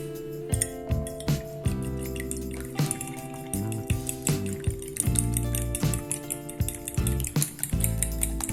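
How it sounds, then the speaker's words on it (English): Two eggs, a pinch of salt and pepper, and milk being whisked in a bowl, with quick, uneven clinks of the utensil striking the bowl repeating steadily and close by. "In a bowl mix 2 eggs, a pinch of salt and pepper, and 2 tablespoons of milk"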